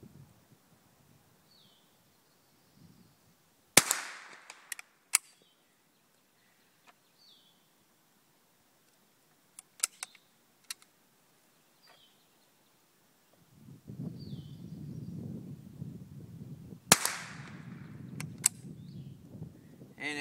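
A Cricket .22 rifle fired at a paper target, each report a sharp single crack followed by a brief echo, one near the start and another later, with quiet rustling outdoors and wind noise between.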